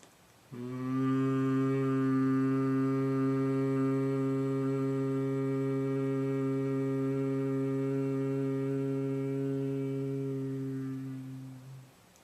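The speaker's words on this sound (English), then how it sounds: "Now we can sound just the hum." A group of people humming one steady low note together, sustained for about ten seconds before trailing off, with no words spoken.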